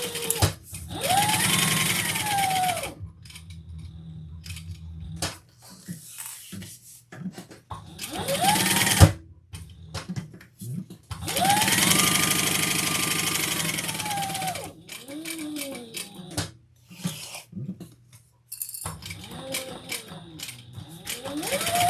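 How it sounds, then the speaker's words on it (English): A sewing machine stitches a leather and vinyl crossbody bag in bursts of whirring motor hum that speed up and slow down, separated by pauses and small mechanical clicks. "Let's sew all the way around, except for the top."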